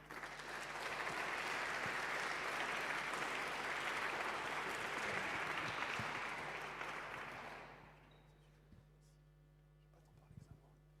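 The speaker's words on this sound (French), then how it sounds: "Vous pouvez les applaudir." An audience at a Station F startup demo day claps in sustained applause for about eight seconds, then the clapping fades out, leaving a low hum and a near-silent room.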